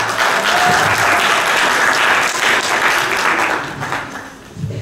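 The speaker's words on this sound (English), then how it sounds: "Give him a round of applause." Church audience applauding at a Black History program, a dense, steady wash of clapping that carries on loudly before tapering off near the end.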